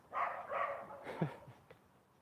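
Dogs bark a few times outdoors at moderate distance, a short cluster of rough barks followed by a softer yip, with no speech in between.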